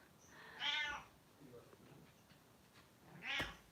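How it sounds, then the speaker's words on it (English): A pet cat meows twice indoors, each call fairly loud and close: one drawn-out meow early on, a shorter one near the end, with faint background sound between them. "My cat again."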